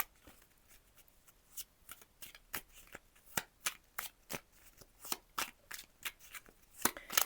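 Tarot cards being shuffled by hand: a long run of quick, crisp riffling bursts in an uneven rhythm, close and fairly quiet, with no speech.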